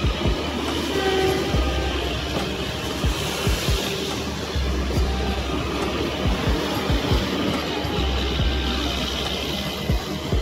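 A train at a railway station in the early morning, its wagons rolling past with a steady rumble and repeated rhythmic clunks, close and loud throughout.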